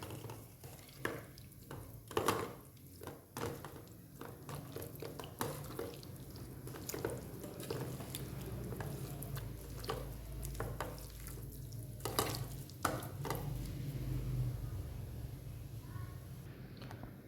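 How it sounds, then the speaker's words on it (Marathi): Thick yogurt being mixed with fried onion for a chicken biryani marinade, soft wet stirring and scraping with occasional clinks of utensil against the bowl, steady and close, no talk. "मी शंभर ग्रॅम दही घेतलं आहे त्याला छानपैकी मिक्स करून घेणार आहे"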